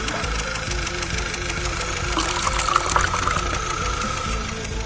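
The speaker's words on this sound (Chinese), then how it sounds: "来，听听这发动机的声音" A car engine runs loud and rough at idle, with a steady knocking rumble and a dense mechanical hum that holds without a break, close up and with no talking.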